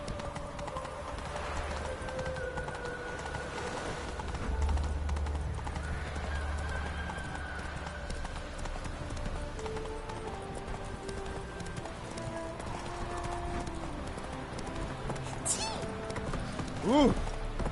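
In a video game, the horse Roach trots with rhythmic clip-clopping hooves, moderately near, under game music and ambience, with a brief whinny near the end; someone talks over the top.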